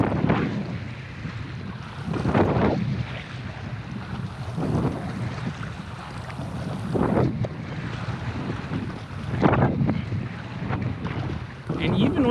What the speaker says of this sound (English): And even with this wind